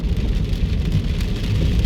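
Heavy rain pours down on a car driving southbound on Nellis Boulevard toward Henderson in East Las Vegas, a dense, steady drumming hiss with no voices.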